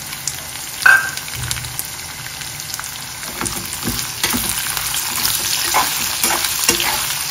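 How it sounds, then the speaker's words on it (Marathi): Sliced onion and green chilies stir-fry in hot oil for squid masala, a loud close sizzle that builds after an initial clatter, with repeated scraping of a spatula against the pan. "कांदा चांगला लालसर होईपर्यंत, आपल्याला गुलाबी रंगावर येईपर्यंत परतून घ्यायचा आहे।"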